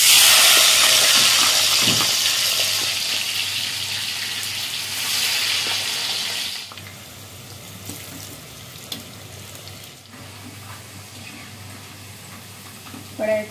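Sliced bitter gourd frying in hot oil in a pan, a loud, steady sizzle at first that fades to a quieter hiss with faint stirring and clinks, no voices.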